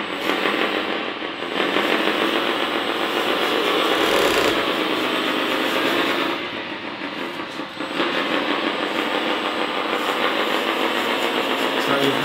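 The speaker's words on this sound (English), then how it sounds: "Here's the engine rolling." Simulated idling engine of a 1/14 scale metal RC 8x8 hydraulic dumper truck, a continuous rumbling drone with a brief dip midway, heard up close with no talking.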